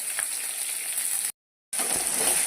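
Garlic and onion fry in oil for fish curry, a steady soft sizzle that cuts to total silence for a moment, then returns with a few light clinks from the pan.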